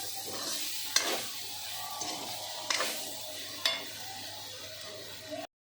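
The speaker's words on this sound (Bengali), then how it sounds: "এবার আমি নাড়াচ্ছি, পুরো গোটা গোটা বেগুনটা থাকবে" Whole eggplants fry with neem leaves in hot oil, a steady sizzle broken by a few sharp scrapes and knocks as a spatula stirs them in the pan.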